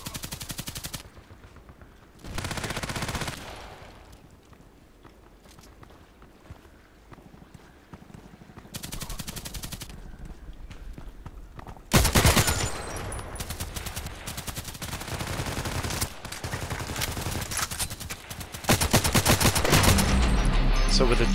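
Assault rifle gunfire in the shooter game Contract Wars: bursts and rapid volleys of shots that come and go, growing denser and louder toward the end.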